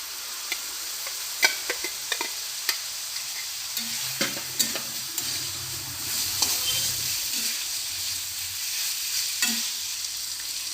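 Chicken and pre-fried pointed gourd seeds frying and being stirred in a pan with ginger-garlic masala, a steady sizzle broken by sharp clicks of a spoon scraping the pan, no voices.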